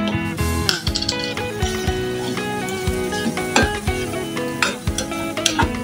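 Spices with turmeric and garam masala are stirred and sautéed in a pan, a steady sizzle and fry with repeated scraping and clinking of a spoon against the metal throughout.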